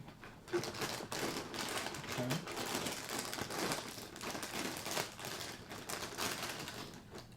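Funfetti cereal package being opened, with steady crinkling and rustling of plastic and paper, close and fairly quiet, with no talk.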